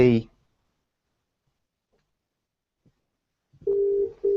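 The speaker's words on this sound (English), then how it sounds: "now my Obi phone starts ringing as well" An Obihai IP desk phone rings for an incoming call, two steady electronic ring tones starting near the end after a brief burst of speech and a long quiet gap; the first tone is sustained, the second begins just after it.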